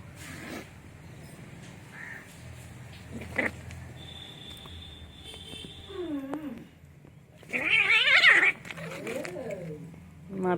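Cats scuffling and tussling, with a burst of loud yowling cries near the middle and shorter meows after, set against steady background noise and some speech in the room.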